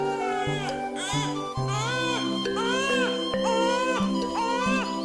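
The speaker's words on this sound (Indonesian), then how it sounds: "Suara tangisan bayi memecah ketegangan malam itu." A newborn baby in a village birth scene cries in loud, repeated wailing bursts, each rising and falling in a steady rhythm, close and unbroken.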